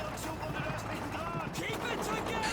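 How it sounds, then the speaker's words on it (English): Gunfire and artillery from a World War II battle in Call of Duty 2, a dense, continuous barrage of shots and blasts with a mix of voices heard over it. "the squeaky wheels of tanks can be heard over all the gunfire"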